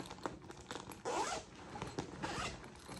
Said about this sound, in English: if you open this zipper, which zips all the way down like this